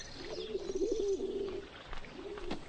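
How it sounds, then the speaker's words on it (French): A dove coos in a soft, rolling call close by, then gives a shorter second coo after a brief pause. "j'ai de gros doutes sur cette colombe"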